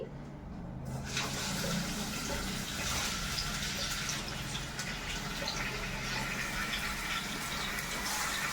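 Tap water runs steadily into a kitchen sink while tomatoes are washed, a continuous close splashing stream that starts abruptly and keeps an even level throughout.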